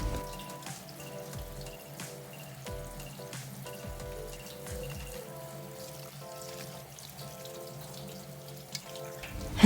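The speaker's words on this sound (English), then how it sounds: "We're first going to rinse them under running water." Catfish being rinsed under a running kitchen tap, a steady close stream of water splashing into the sink for the whole stretch with small shifts as the fish is moved under it; no one talks.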